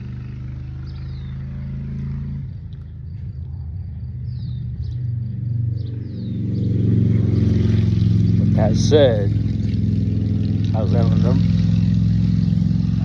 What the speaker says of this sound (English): waiting on that motorcycle to pass by